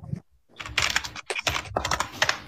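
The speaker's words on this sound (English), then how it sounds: "You don't have a silencer for your keyboard. Why the fuck is it so loud?" Loud computer keyboard typing, close and fast, with rapid clacking bursts and a couple of short pauses.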